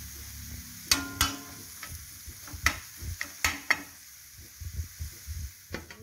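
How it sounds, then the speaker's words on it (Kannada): Egg tawa masala frying in a pan, a soft steady sizzle broken by several sharp clinks and scrapes of a spatula stirring, close and fairly loud, with no talking. "ಬೇಕಿದ್ರೆ ಸ್ವಲ್ಪ ಫ್ರೈ ಆಗಲಿ"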